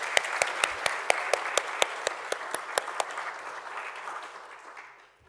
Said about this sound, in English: Let's give him another hand of applause.